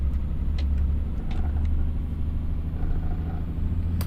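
A heavy truck with a ZF 12-speed transmission rumbles steadily at low pitch while gears are shifted, with the engine droning continuously and a few faint clicks above it. No one speaks.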